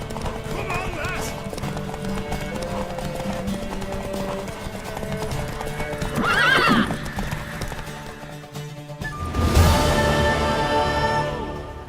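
Hooves clip-clop at a gallop in The Witcher 3, with a horse neighing midway and another loud whinny near the end, while voices talk over the pounding hooves and game music.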